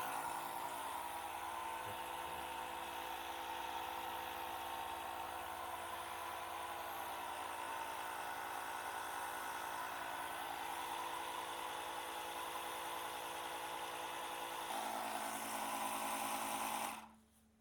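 Small air compressor droning steadily as it inflates a punctured car tyre, a close, even mechanical hum that shifts pitch slightly near the end before cutting off abruptly, with no talking.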